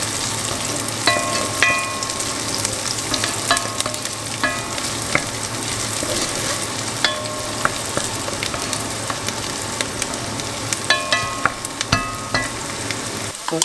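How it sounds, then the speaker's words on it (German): Onions and garlic sizzle and crackle steadily in a hot pan, with occasional scraping and clinks from a utensil stirring them; no talking. "Zwiebeln und Knoblauch schön anbraten,"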